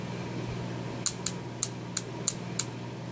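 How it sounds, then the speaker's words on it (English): Six sharp, faint clicks spaced irregularly over a low steady hum, a Mercedes W220 Airmatic relay coil snapping on and off nearby as 12 volts is applied. "So when you give it 12 volts, you should hear that click sound"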